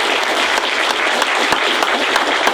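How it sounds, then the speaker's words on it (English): Loud, continuous applause from a room of students for a guest speaker after a Pizza With The Pros talk, a dense wash of clapping with a few sharper individual claps poking through. "Give him a round of applause."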